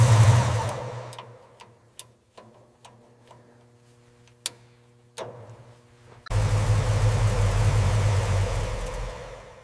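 A 1966 Ford Bronco engine idles with a low steady rumble, broken by sharp ticking clicks, then revs up into a loud, rough sustained roar.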